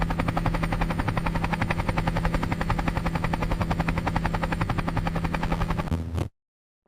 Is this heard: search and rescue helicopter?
yes